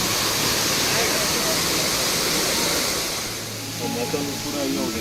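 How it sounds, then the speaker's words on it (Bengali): Water falls continuously inside a limestone cave at Meghalaya's Garden of Caves, making a loud, steady rushing wash that fills the space. Voices talk briefly toward the end. "আর গুহার ভেতর থেকে যে ক্রমাগত জল পড়ার দৃশ্য"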